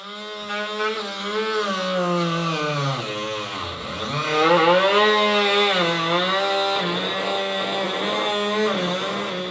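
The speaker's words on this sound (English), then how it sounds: "I marked out the smallest area possible to clear the new inner fenders and cut it with my trusty Dremel." A Dremel rotary tool trims a plastic inner fender on a Jeep JK, a loud close high whine whose pitch sags and recovers as the cut bites in, running steadily throughout.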